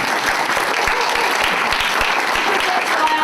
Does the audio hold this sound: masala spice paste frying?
no